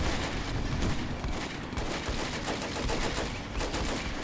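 Dense, continuous gunfire crackles and booms through a World War II battle in the Combat Mission video game. Rapid overlapping shots are mixed with heavier thuds for the whole stretch, at a fairly distant, muffled level.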